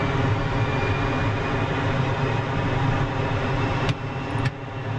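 The left engine of an F-14 in the DCS flight simulator spools up with a steady, loud jet whine and roar held for several seconds, then two short clicks come just before the level drops slightly.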